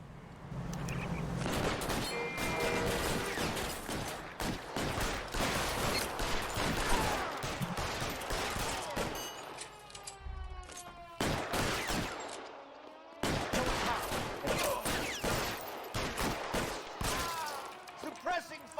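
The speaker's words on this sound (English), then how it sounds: "Suppressing fire!" Gunfire in an L.A. Noire shootout against security men: dense bursts of rapid shots and automatic fire, loud and sustained, with short pauses and shouted voices in between.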